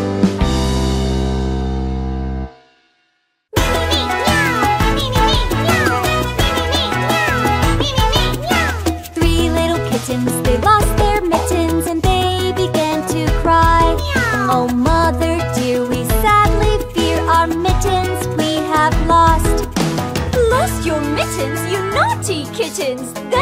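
Cartoon-style cat meows repeat over a bright, busy nursery song for children about three little kittens, the meowing steady and loud within the music.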